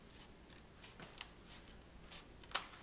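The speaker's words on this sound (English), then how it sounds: "And just cut right through the zipper." Quiet snipping of scissors cutting through a plastic zipper bag, a series of soft cuts ending in one sharper snip through the zipper near the end.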